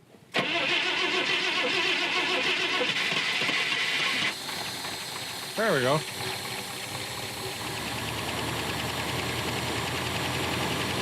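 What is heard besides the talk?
car engine being started and idling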